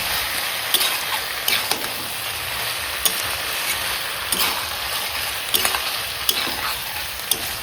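Mutton stirred with spices in a hot pan for mutton bhuna: a steady loud sizzle broken by repeated scraping strokes at irregular intervals, with no one speaking.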